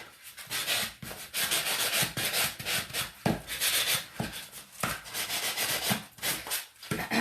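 Hand sanding a large dollar store ornament, brisk rhythmic scraping strokes in quick back-and-forth succession, close and fairly steady.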